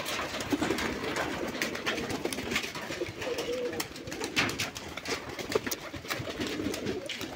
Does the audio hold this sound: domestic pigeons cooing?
yes